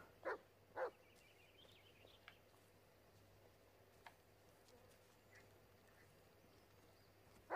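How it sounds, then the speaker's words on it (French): A dog in the horror video game Blair Witch gives two quick barks at the start, followed by faint scattered clicks and ambient game noise, with no talking. "Ouais, il y a le chien. Je l'entends"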